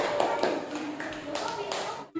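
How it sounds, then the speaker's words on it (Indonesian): Classroom applause for group 1 during a school lesson, a brief burst of clapping from students mixed with voices, fairly close and steady before cutting off sharply near the end. "terima kasih untuk kelompok 1. Kasih tepuk tangan."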